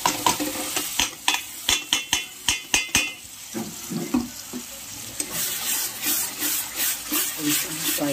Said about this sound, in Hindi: तब तक ये फ्राई हो रहा है